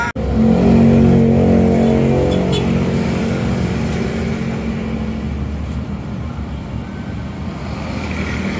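A Volvo B11R-chassis coach bus pulls past, its diesel engine a loud, close rumble that swells at first and then settles into a steady drone as it moves away.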